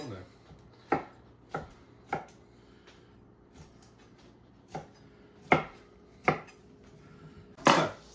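A knife chops vegetables into rough triangles on a cutting board, roughly eight sharp, unevenly spaced strikes standing out against a quiet kitchen background.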